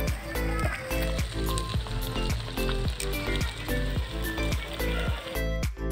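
Spices sizzle in hot oil on a stove for murog pulao, a soft continuous frying hiss under a steady background hum, with regular faint clicks and no talking.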